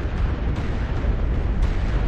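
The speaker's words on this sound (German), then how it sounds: "Hat der einen Airstrike liegen lassen? Arti zwischen uns." An artillery strike in a defence-style video game, a heavy continuous rumbling roar of explosions that stays loud and dense throughout, with no talk.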